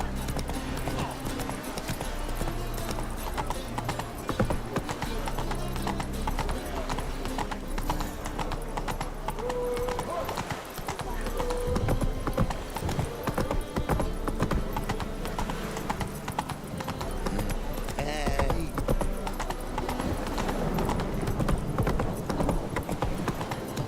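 Steady clip-clop of the horse Roach galloping along a road in The Witcher 3: Wild Hunt, continuous rhythmic hoofbeats under game music and ambience, with a brief whinny.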